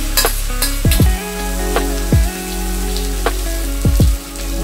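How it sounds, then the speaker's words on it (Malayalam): A beaten-egg omelette sizzles in a hot pan, a fairly loud, close frying hiss under a low steady hum, with a few sharp clanks and swooping tones. "മുട്ട ഓംലറ്റ് ഒഴിച്ചു കൊടുക്കാം."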